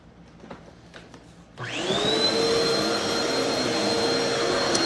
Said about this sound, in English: Yeah, we're gonna vacuum.